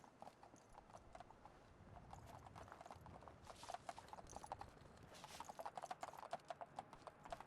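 A horse's hooves clop steadily on a hard surface in a brisk walking rhythm in the video game Fallout 4: London, with faint mechanical clicks in the background and no voices.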